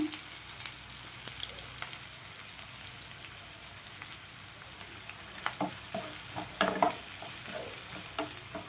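Curry leaves drop into hot oil with grated onions for a potato kurma, crackling and sizzling softly in a low, steady fry with a few sharper pops and stirring clicks near the end.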